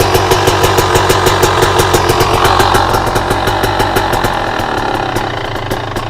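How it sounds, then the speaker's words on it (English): A fuel-injected KTM, Husqvarna or GasGas two-stroke motorcycle engine idles loud and close, with a rapid, even thumping pulse that steadies and softens slightly toward the end. "Now that's regular idle. All I did was roll the throttle forward."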